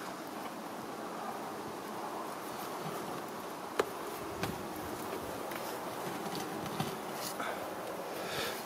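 Honeybees buzz thickly around an open, heavily populated hive during beekeeping work, a dense continuous drone close to the microphone, with a few faint clicks and light handling knocks mixed in.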